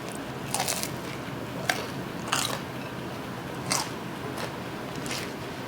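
Several crisp bites into a crunchy cornmeal-crusted bread served with chicken cacciatore, close to the mic, spaced out with chewing in between and no talking.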